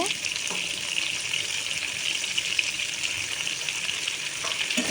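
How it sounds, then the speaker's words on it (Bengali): Papaya and potato pieces cooking in a pan with salt and turmeric, a steady close hiss of sizzling with a soft clatter near the start and end, no voices. "কিছুটা পেঁপে আর কিছুটা আলু জাস্ট লবণ আর হলুদ দিয়ে ঢাকা দিয়ে দিয়ে কষিয়ে নেব"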